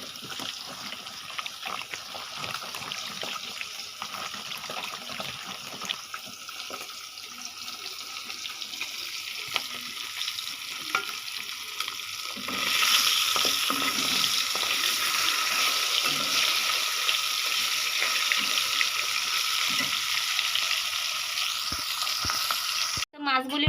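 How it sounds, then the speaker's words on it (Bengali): Eggplant and small potatoes fry in a pan with a steady sizzle that grows louder and brighter partway through, with occasional stirring scrapes and no talking. "এগুলিও ভাজব বেগুনগুলি খুব সুন্দর ছোট ছোট দুইটা আলু দিছি আমি এখানে"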